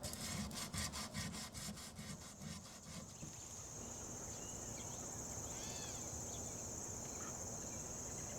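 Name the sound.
sanding an antique wooden music cabinet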